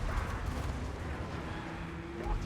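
Battlefield gunfire in Total War: Warhammer 2 as an enemy general is riddled with bullets: a dense, steady rumble of continuous shots and low booms, moderately loud throughout with no break and no talk.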